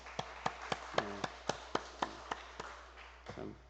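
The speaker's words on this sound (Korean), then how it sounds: "우리 섬기신 권사님들 위해서 박수 한번 쳐드릴까요?" Church congregation clapping at a Sunday afternoon service, a dozen sharp, evenly spaced claps that stay loud and close, ending in a brief scattered patter.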